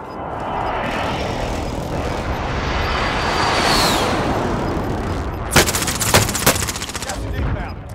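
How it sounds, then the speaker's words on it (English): A precision airstrike in Warzone rumbles in as a long swelling roar, then a few sharp blasts land near the end over steady gunfire-like battle noise. "Enemy precision airstrike."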